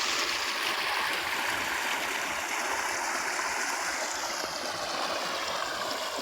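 Steady, loud rush of water gushing from a pump motor's outlet into a farm field, a dense continuous wash with no pauses and no voices.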